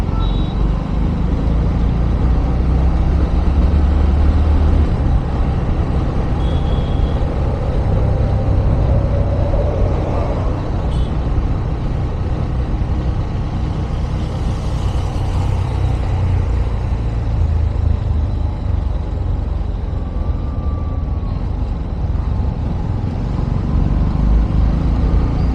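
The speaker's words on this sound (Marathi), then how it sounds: "थोडं ट्रॅफिक राहतेच इथे" Steady road traffic on a busy main road in Pune, a continuous low rumble of cars, trucks and buses passing close by, with a brief brake squeal and occasional horns under the constant din.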